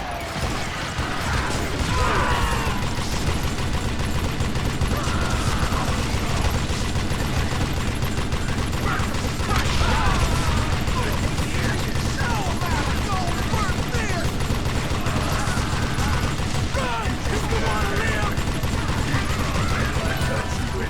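Gunfire in the western shooter Call of Juarez Gunslinger: a dense, sustained barrage of shots and metallic mechanical clatter that runs without pause, loud and busy throughout.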